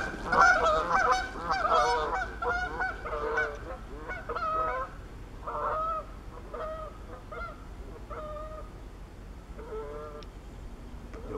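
A flock of geese honks repeatedly outdoors in the snow, loud, overlapping nasal calls coming in irregular bursts that thin out to fewer, spaced honks toward the end.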